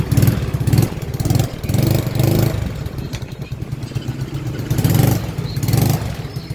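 A Yamaha Mio Soul scooter with a replaced CDI fires up with one click and idles close by, its small engine puttering loudly in pulsing surges and dips with light mechanical clatter.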